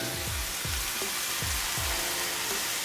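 Impossible Burger meat frying in a hot pan for lettuce wraps gives a steady, close sizzle and crackle with a few soft stirring scrapes and no talking.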